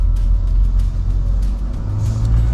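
A Land Rover Defender 110 climbs a gravel forest road in 4H with raised ride height, giving a loud, close, deep engine rumble that holds steady throughout.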